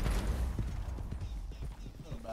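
Hoof clip-clop and faint horse sounds from the Red Dead Redemption 2 video game, soft and intermittent over a busy game background.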